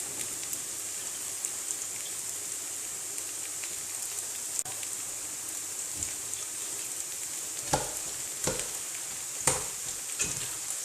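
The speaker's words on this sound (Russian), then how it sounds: "Перемешиваю и хорошенько обжариваю." Steady sizzling of carrot sticks frying in oil for duck plov, with a few louder crackles and stirring scrapes near the end.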